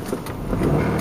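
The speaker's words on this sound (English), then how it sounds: "the traffic is heavy on Friday, and it's raining" Heavy Friday car traffic on a rainy Portland road: a continuous close rumble of engines and tyres on wet pavement, steady and fairly loud with no voices.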